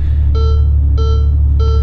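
Three repeated electronic warning chimes from a Ferrari 812 Superfast as its driving aids are switched off, each a bright tonal ding spaced about 0.6 seconds apart over a steady low engine rumble.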